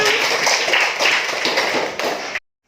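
Classroom of students clapping their hands together, a dense burst of overlapping claps at close range that stops abruptly.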